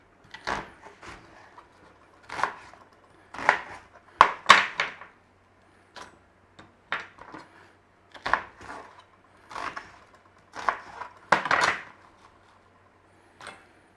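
Two onions being chopped with a knife on a board, sharp irregular chopping knocks in short clusters with pauses between, close and fairly quiet, no talking.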